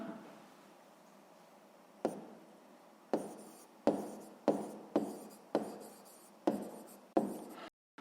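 Handwriting during a sixth-grade math exercise: a series of short, sharp scratching strokes, about eight of them in quick succession after a quiet start, close and distinct with no talking.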